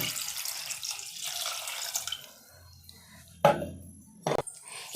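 Water is poured from a tap onto mutton bones in a pressure cooker for soup, a splashing rush for about two seconds, followed by a few clunks and scrapes of the pot.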